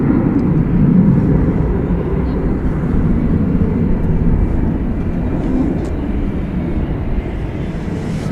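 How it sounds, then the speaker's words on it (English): A CRJ regional jet at Dallas Fort Worth airport at night gives a steady, broad jet roar that holds at a fairly loud level throughout, with no talking. "here is the CRJ"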